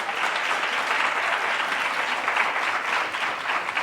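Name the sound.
audience applause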